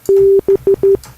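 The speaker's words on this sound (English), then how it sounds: "sine," A pure, smooth synthesizer sine tone plays as one longer note followed by three short beeps in a quick rhythm.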